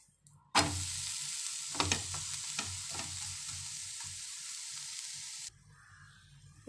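An uttapam cooks on a hot pan with a loud, steady sizzle. It starts suddenly after a quiet moment, carries a few soft scrapes and taps, and stops abruptly near the end.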